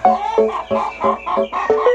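A hen clucks close by in a quick, steady series of about six short, throaty clucks.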